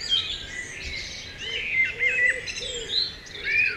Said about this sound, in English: Many of our audiobooks on CD cover birdsong